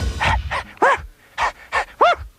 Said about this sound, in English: He let out a loving howl.